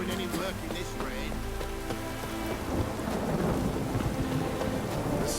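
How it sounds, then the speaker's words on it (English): Heavy rain pours and thunder rolls in The Witcher 3 game world, a dense steady downpour with deep rumbles near the start, a voice speaking briefly over the storm. "No use doing any work in this rain."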